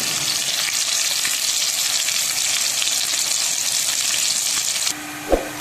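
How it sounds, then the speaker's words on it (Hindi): Onions fry in hot oil in a pan until golden brown, giving a loud, dense, steady sizzle up close that suddenly drops away near the end, followed by a single clunk. "तो प्याज को गोल्डन ब्राउन होने तक मैं फ्राई करूँगी।"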